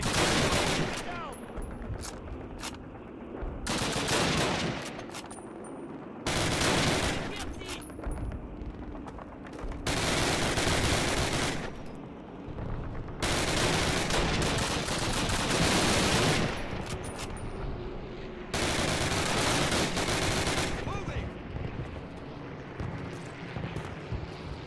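Sustained bursts of automatic gunfire in a Call of Duty battle, loud and dense, coming in repeated long volleys with brief pauses between them.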